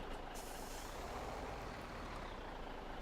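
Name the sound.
truck moving with air brakes in Farming Simulator 17 video game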